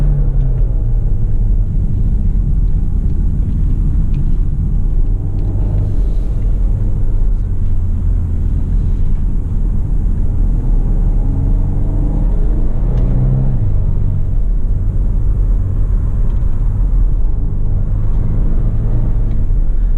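A 2021 Volvo V60 Cross Country under way, with a steady, loud low engine drone and road rumble that swells and eases through gear changes across the whole stretch, with no voices.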